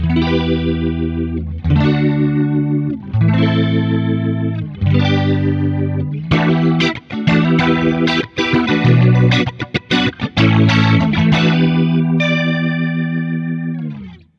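A sustained electric organ plays chords through a swirling, warbling rotary speaker effect simulated by an electronic pedal, loud and continuous, ending with a held chord that fades.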